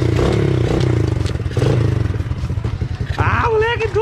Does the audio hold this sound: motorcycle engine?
yes